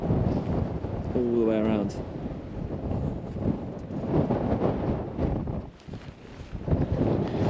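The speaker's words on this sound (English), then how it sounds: "I'll step out here, the wind will pick up" Wind blows steadily across an open hilltop viewpoint in the Peak District near Thor's Cave, a broad rumbling buffet against the microphone throughout, with people talking over it.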